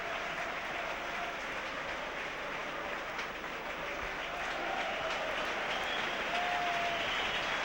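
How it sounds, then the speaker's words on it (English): Applause from a football crowd spread across three sides of the Blackburn Rovers ground during a player's award presentation, a dense and steady wash of distant clapping that holds for several seconds. "gains rich applause from all three sides of the ground holding the Rovers supporters"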